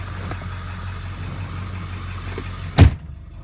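A 1999 Ford F250 Lariat diesel truck idles with a low, steady rumble, then a single sharp door slam lands near the end.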